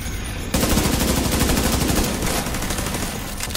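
Gunfire rattles in the video game The Division 2 as a sniper shoots, a loud burst of rapid reports starting abruptly and then continuing densely for about three seconds.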